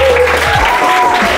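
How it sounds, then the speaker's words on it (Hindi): Short round of clapping following a classroom science demonstration on blood circulation, loud and close, with a faint tone and some low voice-like sounds mixed in briefly. "ताक पई गुटे ताली हे जाओ"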